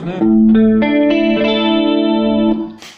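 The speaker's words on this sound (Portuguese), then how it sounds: "esse é o som do chorus" Electric guitar run through a cheap Chinese chorus pedal rings out as one sustained chord with a shimmering, slightly doubled wobble, loud and close, briefly framed by a few spoken words at the start and end.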